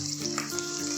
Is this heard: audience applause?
no